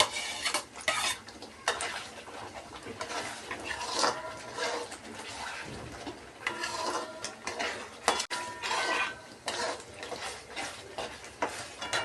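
A spoon scrapes and stirs chopped tomatoes into a vegetable dum biryani gravy in a pot, in irregular bursts of clattering and scraping with a soft sizzle underneath.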